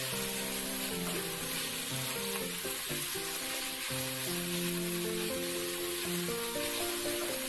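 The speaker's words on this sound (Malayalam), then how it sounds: "സവാള നന്നായി ഒന്ന് വഴറ്റി വരണം" Onions sautéing in a pan with a pinch of salt for restaurant-style chicken chukka, a constant close sizzle with soft stirring scrapes and no voices.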